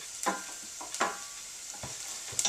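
Onions fry in a pan as part of a shrimp tortellini dish, giving a continuous hiss with a few soft scrapes and knocks from stirring, close and unaccompanied by speech.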